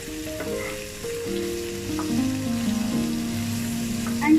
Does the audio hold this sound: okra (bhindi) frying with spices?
yes